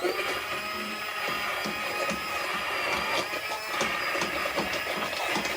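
A steady, loud motorized whir from a Princess House immersion blender runs without pause, with small shifts in pitch as the blades work through tomato soup. No one speaks over it.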